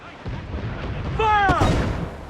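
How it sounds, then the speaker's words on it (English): Incoming mortar fire in a combat video game: a loud boom under a harsh, continuous battlefield din, with a short whistling sweep and a sharp burst near the middle, while voices shout faintly in the mix. "Mortar incoming!"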